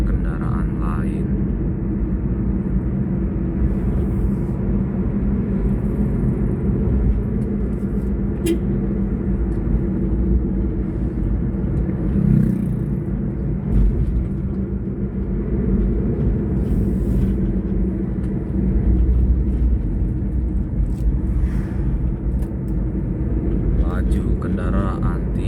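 Traffic passing slowly through a fog-bound mountain road bend at Alam Beringin: a steady low engine rumble, near and continuous, with a heavier vehicle swelling past midway and again toward the end.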